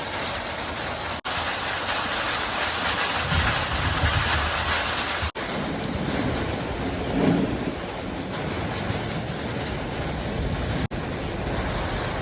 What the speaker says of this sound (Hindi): अब देखो हमारे यहाँ बारिश शुरू हो चुकी है